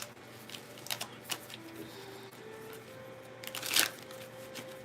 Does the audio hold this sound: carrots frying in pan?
no